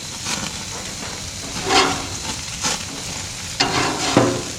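Seasoned frozen burgers sizzle on a hot cooking surface, a steady frying hiss broken by a few louder crackles and scrapes, close up with no talking.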